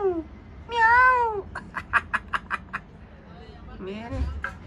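Two kittens meow in a home shared with children, one drawn-out mew near, followed by a quick string of short high chirping cries, then another softer meow at the end, with people talking faintly around them.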